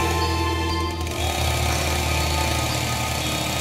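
In a haunted-bus cartoon, a ghost cuts into a bus with a saw, making a loud, continuous motorized buzzing drone that holds steady throughout.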